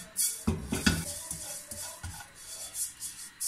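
Sesame seeds dry-roast in a pan as a utensil stirs them, making scattered scraping and clinking strokes, close and clear, with a light sizzle between.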